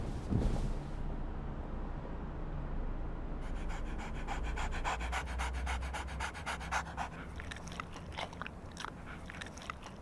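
A dog pants rapidly and steadily inside a car, close and continuous, with moist breathing and some chewing-like mouth sounds, and no talking.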